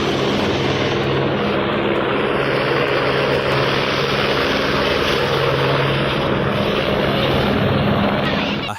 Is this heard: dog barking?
no